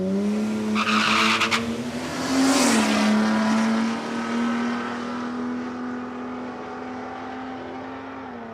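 Drag race cars at Palmyra Raceway, one with an engine note that holds steady and shifts pitch mid-run, with a burst of tire squeal early on, loud and close throughout.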